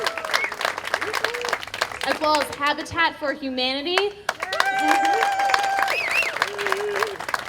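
Audience applause breaks out during a community playground-building event, clapping and scattered cheers heard under someone speaking, then swelling into a fuller round of clapping.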